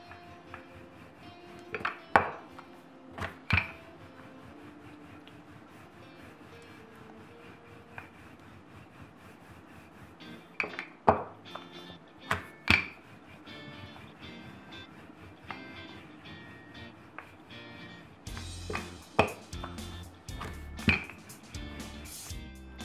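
A rolling pin works roti dough on a board, giving soft rubbing rolls broken by sharp wooden knocks and taps at irregular intervals, close and fairly quiet, with a denser stretch of rolling near the end.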